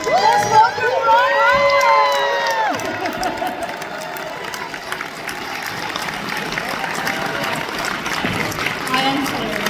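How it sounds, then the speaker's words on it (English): Convention crowd at a Happy Days panel cheering, whooping and applauding, loud at first with shouts, then settling into steady clapping that swells again near the end. "Let's welcome Ron."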